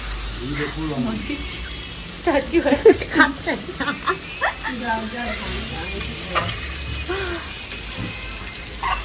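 Meat sautés in a pan with a steady sizzle and occasional stirring scrapes, close by, while a person talks over it for most of the time.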